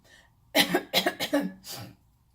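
A burst of several harsh coughs close to the listener, in a quick uneven cluster with a final rougher cough.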